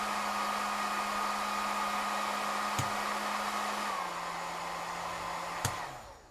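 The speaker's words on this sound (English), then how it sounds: "You can hear the fan changing quite dramatically between the two." An 18V cordless heat gun blows with a steady fan roar, then its pitch drops as the speed setting is switched down, with a couple of sharp switch clicks before it winds off.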